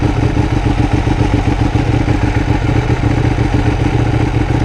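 A 2015 Ducati 1299S is ridden in sport mode, its engine a loud, steady, close drone with a rough pulsing texture throughout and no speech.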